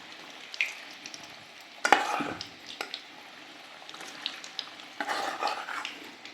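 Cauliflower pakoras in gram-flour batter fry in hot oil at home, giving a soft steady sizzle with scattered crackles, spoon stirring and occasional clinks of utensils against the pan.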